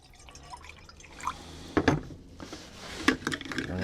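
Water poured from a bottle into a budget camping cup sized to fit a 32-ounce Nalgene, heard as close, irregular splashing and dripping trickles with a couple of sharper clinks over a quiet background.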